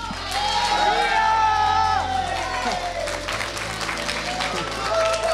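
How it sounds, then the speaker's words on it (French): A group applauding and cheering at a Christmas gathering, with steady clapping under excited shouts and whoops and a sustained tonal sound running through, loud and close throughout. "je veux qu'on nous applaudisse le plus fort possible!"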